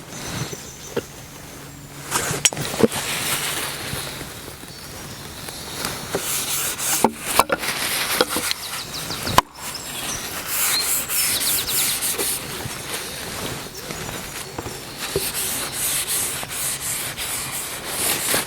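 Boiled linseed oil rubbed by hand onto a wooden axe handle that already has one coat: a steady, close, dry rubbing and scuffing with periodic strokes and small knocks, continuous throughout with no talking.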